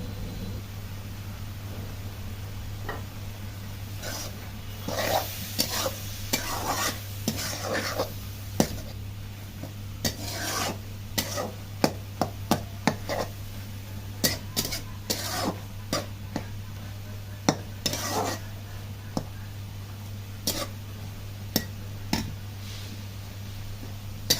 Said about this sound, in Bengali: এগুলো আর কিছুক্ষণ নাড়াচাড়া করে এগুলো তুললেই ব্যাস আমাদের রান্না কমপ্লিট হয়ে যাবে